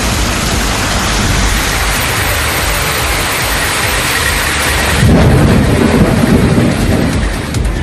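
Heavy rain pours down across Tiruvarur district, a loud, dense roar of water drumming on surfaces that swells into a deeper, heavier rush partway through.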